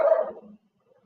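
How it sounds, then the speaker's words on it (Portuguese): Dogs barking in a single short burst at moderate distance, followed by a faint trailing yelp and then near silence. "Olha lá os cachorros."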